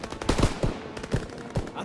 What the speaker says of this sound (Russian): Пулемет, открыть огонь!